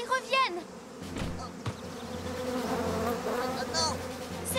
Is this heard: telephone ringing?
no